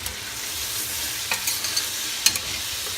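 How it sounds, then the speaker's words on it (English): Bacon, onion and leek sautéing in bacon grease for leek and potato soup, stirred in the pan: a steady close sizzle with occasional light scraping clicks from the spoon, no talk. "Now we just need to give that a little stir."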